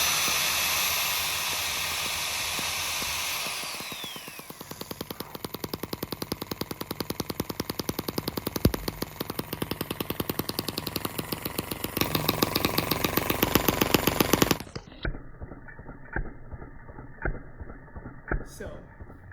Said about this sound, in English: Now, when we turn the engine over,